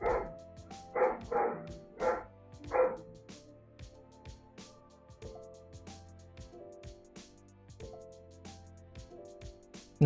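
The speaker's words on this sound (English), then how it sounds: "Bark, bark. Bark, bark indeed." A nearby dog lets out a quick run of about five sharp barks in the first few seconds, then falls quiet while soft rhythmic music carries on.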